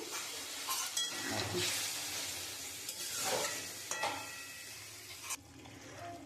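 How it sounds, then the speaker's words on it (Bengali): Rohu fish pieces are poured into hot oil with cumin and stirred, a close sizzle and hiss broken by bursts of scraping and splattering, over a few seconds with no talk. "আমি এবারে মাছটা ঢেলে দেবো।"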